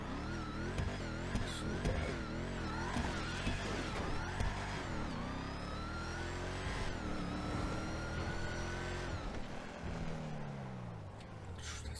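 A supercharged V8 Chevelle in GTA 5 revs and accelerates through repeated rising and falling sweeps, its engine note steady and continuous for several seconds with no voices.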